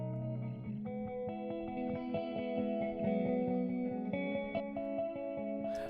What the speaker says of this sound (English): that's why the song ends with just a couple of echoes